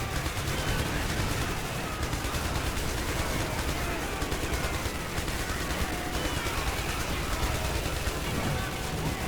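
Enemy gunfire in the video game IS Defense: a dense, continuous barrage of rapid shots and rattling bursts that holds at a steady, loud level throughout.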